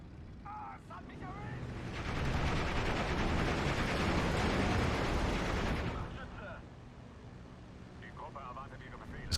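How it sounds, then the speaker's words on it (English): Aircraft strafing runs in the wartime strategy game Steel Division 2 let loose a dense, roaring burst of gunfire lasting several seconds, with someone talking briefly before and after the barrage. "Just constant strafing runs onto the reinforcements."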